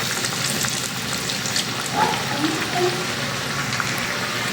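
Peyaju onion fritters frying in hot oil, a steady loud sizzle with small pops and bubbling, close by and without talk.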